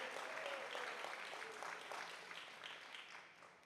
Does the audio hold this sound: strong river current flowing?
no